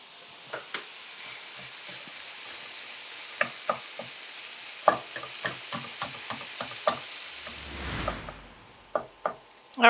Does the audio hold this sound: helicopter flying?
no